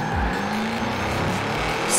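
Ford Shelby 1000 racing car from Forza Horizon 4 on a drift suspension setup, engine droning steadily at speed with faint tyre squeal, loud and continuous for the whole stretch.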